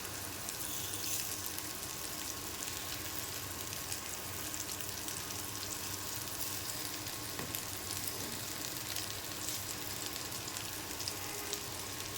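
Pumpkin pieces frying in oil in a covered pan, giving a steady, even sizzle and hiss that runs the whole time at low volume with no voices.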